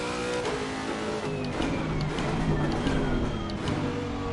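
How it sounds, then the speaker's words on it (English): A race car engine in the Assetto Corsa Competizione sim, heard from the cockpit in VR on PS5, hums and drones at a fairly low level with slight rises in pitch as it revs, steady throughout. "I can hear my engine"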